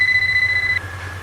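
A Deteknix Scuba Tector underwater metal detector sounds a steady electronic tone that drops to a lower pitch partway through, heard close over low background rumble from wading in water.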